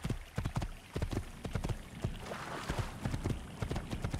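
Horse hooves pound in a steady galloping clip-clop rhythm inside the Assassin's Creed video game, loud and close for the whole stretch with no talking over them.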